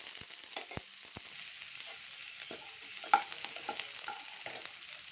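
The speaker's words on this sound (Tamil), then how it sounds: "கடலைப்பருப்பு செவந்து போச்சு, வெங்காயம் போட்டுக்கலாம்" Onions fry in oil in a pan, giving a soft, steady sizzle broken by scraping stirs and a few louder clanks as the spatula works, close up with no voices.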